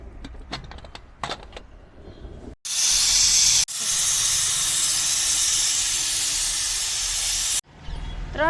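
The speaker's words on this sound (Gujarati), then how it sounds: "કુકરનું ઢાંકણું રાખીને 2-3 સીટી વગાડી લઈશું।" A pressure cooker boiling chickpeas lets out a loud, sustained steam whistle, a harsh hissing blast lasting several seconds that stops abruptly, preceded by light clicks and handling noises.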